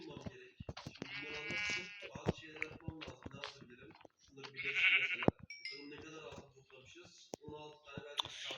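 Sheep bleat in short wavering calls, interleaved with nearby talk and a person calling to the animals in a village setting.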